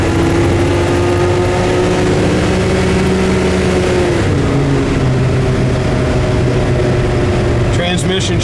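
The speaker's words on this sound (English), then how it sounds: "You can just hear the engine roar there." A 1969 Chevelle SS muscle car engine roars steadily and loudly while driving, its low drone shifting pitch partway through as the transmission changes gear.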